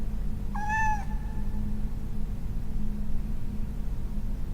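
A kitten in the Harry Potter PS1 video game gives a single short, clear meow near the start, then only a low steady background hum remains.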